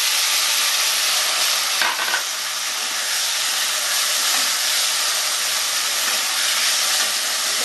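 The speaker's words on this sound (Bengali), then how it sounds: "এবার আমি সবজিটা দিয়ে দেবো, দিয়ে সবজিটা কষতে থাকবো।" Vegetables for Bengali shukto stir-fried in a hot pan, a loud, dense, continuous sizzle and hiss with faint scraping of stirring, close by and without voices.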